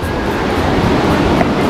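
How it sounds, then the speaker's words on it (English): River flowing near Yosemite Falls, a loud, steady, close rushing roar of moving water that holds constant throughout. "Flow of the river."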